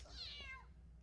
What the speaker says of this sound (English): go away, kitty